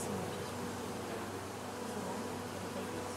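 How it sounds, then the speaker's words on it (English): A dense swarm of honeybees buzzing around an open beehive frame holding eggs and larvae, a steady close drone filling the whole moment without voices. "because there's just so many bees"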